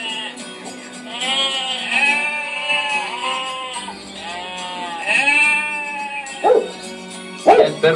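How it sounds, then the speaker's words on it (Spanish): A village dog guarding livestock at dusk in the Canary Islands, with sheep or goats bleating in drawn-out wavering calls and a couple of short sharp barks near the end. "El perro del pueblo sabe que se va a hacer de noche y está guardando el ganado."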